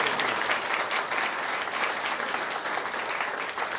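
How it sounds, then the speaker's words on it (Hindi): A church congregation applauding loudly and continuously, a dense wash of many hands clapping for the whole stretch with little variation. "जोरदार तालियां बजा।"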